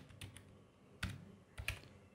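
A few soft, separate keystrokes on a computer keyboard as a PAN number is entered, three quiet clicks spaced apart in an otherwise still room.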